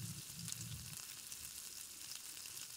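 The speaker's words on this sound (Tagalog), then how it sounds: "So, ngayon, tunawin na natin ang ating butter." Butter sizzles and melts in a little oil in a pan for buttered chicken wings, a soft, steady hiss heard close, with a faint low stir early on.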